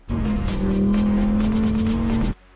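A Porsche 911 GT3 accelerates hard on a race track, its loud, steady engine note rising and holding close for about two seconds before cutting off abruptly.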